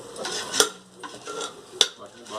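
Mutton biryani mixture of onion, tomato, green chillies and mutton stock stirred in a pot over a wooden fire stove, with sharp metal spoon clanks against the pot between softer scraping strokes.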